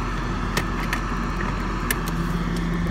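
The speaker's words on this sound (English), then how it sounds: "Fire that big V8 to life." A 1996 Mercedes-Benz SL500 roadster's V8 idles steadily in a low, continuous rumble, with a few brief clicks and ticks over it and no talk.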